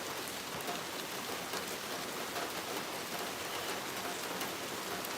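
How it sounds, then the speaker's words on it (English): Steady rain pouring down, a dense, even hiss of drops hitting surfaces that holds constant throughout, with no voices. "it's gonna rain harder"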